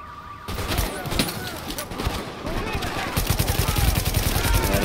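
Gunfire in the shooter Tom Clancy's The Division, with repeated shots through the clip that turn into a dense, rapid automatic burst in the final seconds, backed by game ambience.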